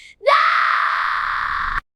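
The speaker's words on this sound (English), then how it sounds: "The scream split Umuonwu open." Loud, sustained scream in a drama set in a village, a single piercing cry that holds steady at full strength for about a second and a half before cutting off abruptly.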